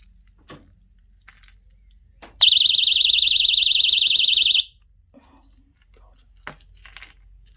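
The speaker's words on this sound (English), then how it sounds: "the alarm will sound an ear-piercing 140 decibel siren instantly" A piercing high-pitched 140-decibel personal security alarm for a motorbike blares for about two seconds with a rapid warbling pulse, then cuts off abruptly, leaving faint clicks and handling noise.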